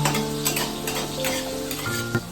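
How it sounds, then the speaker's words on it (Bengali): Pulao rice fries in ghee with bay leaf in a pan, giving off a constant close sizzle while a spoon stirs and scrapes through it at intervals. "আমাদের পোলাও রান্না হচ্ছে"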